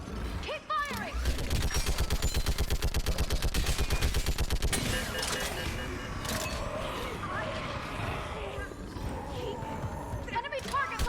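Automatic gunfire in the video game Mass Effect 3 rattles in a fast, loud, sustained burst for several seconds, then breaks into scattered shots and battle noise, with voices shouting commands over the combat.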